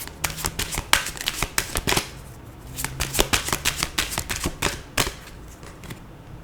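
Tarot cards being shuffled by hand during an August monthly reading, a close series of crisp riffling bursts and soft slaps, irregular in rhythm, with no talking over them.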